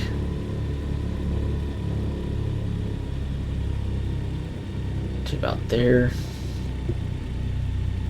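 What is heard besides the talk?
DC-3 radial engine idling, Microsoft Flight Simulator 2020 video game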